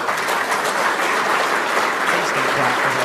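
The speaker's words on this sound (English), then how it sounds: "Stop clapping." A crowd claps steadily through a political speech, a dense, sustained round of applause at even loudness with a voice faintly audible beneath it.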